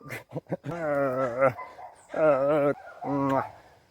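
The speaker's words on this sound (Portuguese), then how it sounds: "Esse aqui é o meu cachorro Bidu" A dog barks and whines in a series of short yips followed by three long, tonal howl-like bow-wows, close and fairly loud, with brief pauses between.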